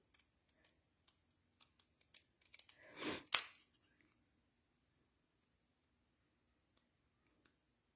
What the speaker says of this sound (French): que je vais découper à la main avec les ciseaux